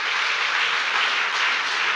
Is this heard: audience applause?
yes